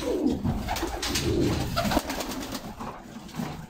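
Andijan pigeons cooing close by, several overlapping low throaty coos repeating steadily over a soft background hiss.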